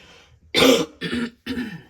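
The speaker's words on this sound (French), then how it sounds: "je vais tousser, pardon." Three harsh coughs in quick succession, close and loud, the first strongest, with short silent gaps between them.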